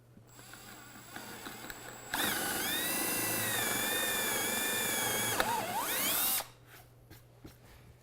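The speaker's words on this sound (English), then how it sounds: "I drilled through the breadboard, through the tenon, and back into the breadboard" A power drill bores through a tabletop breadboard end and the tenon inside it. One close, steady whirring burst lasts about four seconds and stands out over a quiet room.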